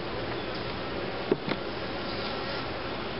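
Bees buzzing at an open hive during inspection, a faint, continuous close hum with a couple of brief knocks partway through.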